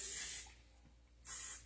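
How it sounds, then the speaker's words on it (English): Urban Decay All Night Setting Spray misted in two short, close pumps, each a bright airy hiss lasting under half a second, separated by a brief quiet gap. "I just tried the Urban Decay All Night Setting Spray, and I really like it"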